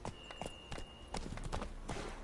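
Horse hooves clip-clop at a walking pace across ground in The Witcher 3, a series of light, irregular taps spread through the clip over a faint background hum and a steady high whine, with no talking.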